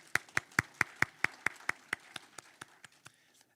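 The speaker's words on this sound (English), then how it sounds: "now we'll applaud for them all" An audience at a councillor forum claps together for a list of named people, a brief round that starts as crisp, evenly spaced claps and fades over about three seconds, faint and with no talk.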